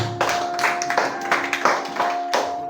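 A church congregation at Sunday school claps in a steady rhythm to acclaim the Lord, several loud clustered bursts of hand claps close by, with a sustained tone running beneath.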